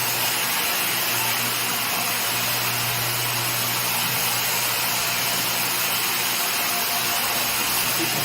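Vacuum pumps on a Blue Elephant 1325 CNC router run steadily beneath an MDF spoilboard vacuum table, giving a constant broadband hiss and low hum that holds at an even level throughout, with no voices.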